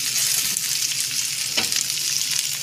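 Onion, garlic and a siling labuyo chili sautéing in a pan, a dense, even sizzle with one brief stir-scrape midway.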